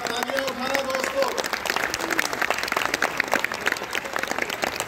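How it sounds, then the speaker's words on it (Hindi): An audience at a Holi kavi sammelan, a Hindi poetry recital in Rohtak, bursts into sustained applause, dense clapping from a large crowd filling the hall continuously, with a voice briefly heard at the start. "जरा तालियां उठाना दोस्तों।"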